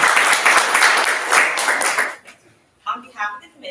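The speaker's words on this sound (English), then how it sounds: "Let's give our candidates a round of applause." Dense applause from an audience at a student government candidates' debate fills the first two seconds, then stops abruptly, followed by a few brief bursts of voices.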